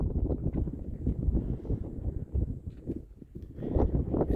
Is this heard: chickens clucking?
no